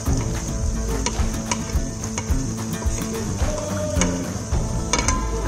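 Corn and carrot being stirred into a spicy poha mixture in a hot pan, with steady close sizzling and scraping stir strokes throughout.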